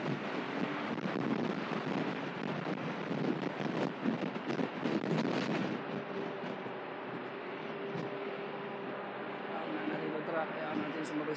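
Wind roars past a Kymco Xciting S 400 scooter at expressway speed, a loud, constant rush with gusty swells that eases somewhat toward the end, with a voice talking over it.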